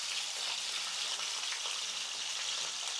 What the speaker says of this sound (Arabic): انا بحب اديها تحميرة خفيفة كده قبل ما احطها في القلقاس